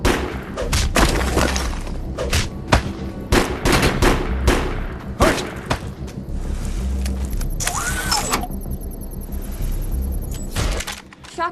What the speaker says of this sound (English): Shotguns are perfect for close-quarter combat. One blast, up close and personal, will do some serious damage to most enemies.